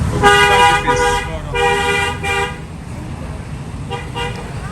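A car horn blares in several loud honks, long then shorter bursts, over steady road traffic noise at a market in Buon Ma Thuot, Vietnam.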